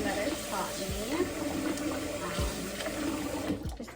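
Water from a tap running into a pot of curry noodles: a steady splashing pour with bubbling, under a person talking throughout.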